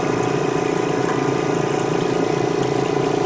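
A Kaizo Waterfall spray booth's vent fan runs at a steady, loud drone with a constant hum and no variation, heard alone and up close.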